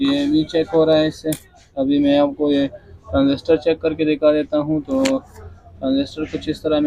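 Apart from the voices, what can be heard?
No everyday noise stands out behind the speech.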